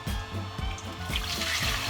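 Water pours into a pan for choux pastry dough with butter and milk, a short, close, gurgling trickle with a few splashy pulses.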